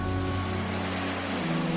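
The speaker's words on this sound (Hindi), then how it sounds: "ये पानी का शोर" Continuous rushing water noise of a fast-flowing Himalayan river between steep mountains, a steady broad wash with a low hum underneath and no speech.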